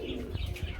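Racer pigeons at a pigeon market coo close by, soft throaty low calls repeating in a brief run with a few faint chirps.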